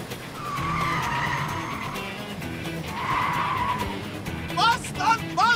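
A car in a film chase scene roars and skids, its tires squealing in long sustained screeches over engine rumble, ending in several short sharp squeals; no speech is heard.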